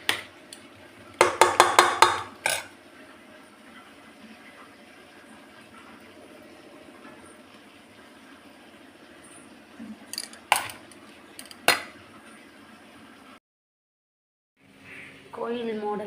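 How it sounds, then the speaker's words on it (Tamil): A spoon scrapes and clinks while spice powder is stirred into temple-style tamarind rice. Short bursts of clattering are separated by long quiet stretches of faint background hum. "இந்த தூளை கொஞ்சம் போட்டுக்கிட்டு கிளறி விட்டுட்டு கோயில் மாடல் புளி சாதம் தயாராகிடுச்சு"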